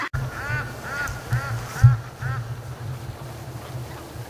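Ducks on a lake quack in a short series of rhythmic, nasal calls, fairly close and clear over a quiet outdoor background, tapering off into stillness.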